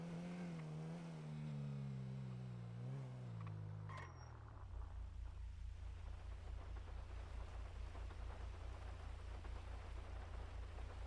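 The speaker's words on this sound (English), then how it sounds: "Of course it's raining." Steady rain falling in a video game, a dense, even patter that takes over after a fading engine-like drone, fairly faint and without speech.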